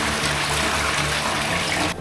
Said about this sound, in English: I'm going to go for it full flush.